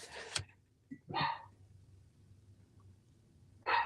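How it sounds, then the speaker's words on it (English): A small pet dog barks indoors in three short, sharp bursts separated by quiet gaps, fairly close and loud, with a faint yip between them. "She's gonna bark the whole time."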